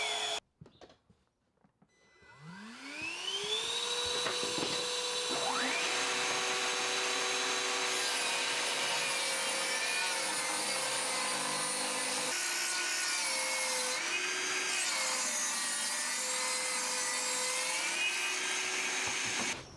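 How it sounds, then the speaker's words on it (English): A table saw spins up and rips lengths of 3x2 timber to thickness, a rising motor whine that settles into a loud steady hum, with rough cutting noise as the wood feeds through, close by and alone. "I'm going to rip them to the right thickness on the table saw."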